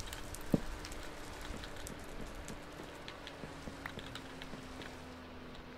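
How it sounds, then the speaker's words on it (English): Steady Minecraft rain patters continuously across surfaces, a soft, even hiss with scattered droplet ticks and faint game ambience, no voices. "Oh man, it's all rainy."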